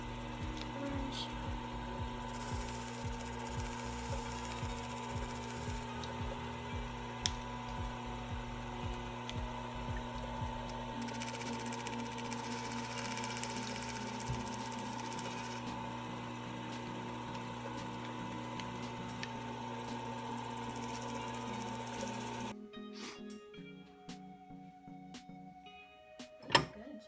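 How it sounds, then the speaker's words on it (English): Wood lathe spinning steadily as an Easter egg is colored on it, giving a continuous hum with faint scraping contact noises before it winds down near the end. "Let's turn on the lathe."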